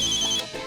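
A mobile phone ringtone chirps briefly, a short bright electronic ring that cuts off after a fraction of a second.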